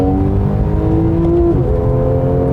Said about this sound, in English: you really can't beat that naturally aspirated flat six when it comes to sound